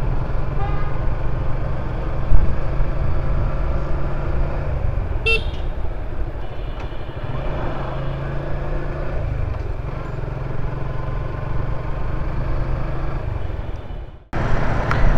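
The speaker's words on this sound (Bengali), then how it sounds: "বাইকের সাউন্ডটা একটু বাজে শোনাচ্ছে" A motorcycle in need of servicing rides through congested Dhanmondi city traffic, its engine giving a loud, rough, continuous low rumble. Car horns toot around it, and the sound cuts off abruptly near the end.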